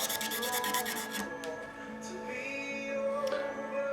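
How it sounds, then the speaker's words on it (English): Knife blade scraping dead skin and crud off the fingerboard of an Ovation Applause guitar, quiet close rasping strokes, quick and rhythmic at first, then slower and softer. "I'm just basically, there you go. That's all dead skin and crud and horribleness."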